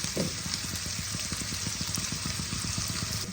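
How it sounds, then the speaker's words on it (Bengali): Sliced onions fry in a pan for a Bengali muri ghonto, a close, steady sizzle with soft rhythmic stirring scrapes throughout. "পেঁয়াজগুলোকে আমি লাল লাল করে ভেজে নেব।"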